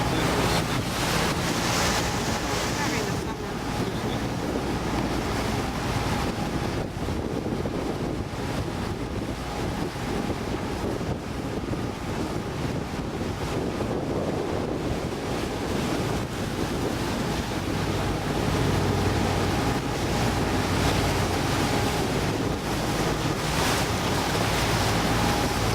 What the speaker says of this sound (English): The Adriatic Sea.